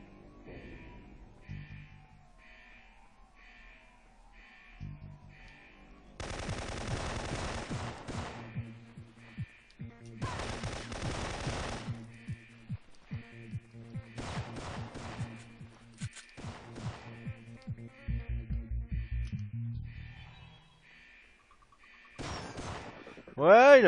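Gunfire from a video game, an enemy firing a hunting shotgun, comes as repeated loud bursts and volleys over a steady musical background, with quieter stretches in between and a sharp final blast.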